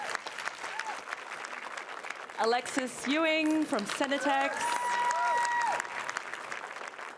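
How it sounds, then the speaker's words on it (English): An audience at a tech conference panel claps steadily in the background while a presenter's voice carries over it, introducing panelists as the applause continues. "let's give her a round of applause"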